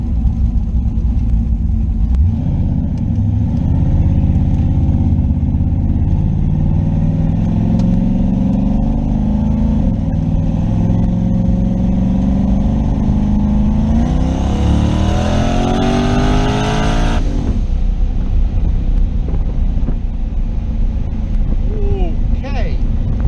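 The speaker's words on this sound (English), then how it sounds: "We're going to turn the boost controller on, just see what happens. But we're going to wait till we're in second gear before we lay into it." Car with a boost controller switched on accelerating hard in second gear, engine note climbing steadily to a loud roaring peak before dropping off abruptly, heard close from inside the vehicle.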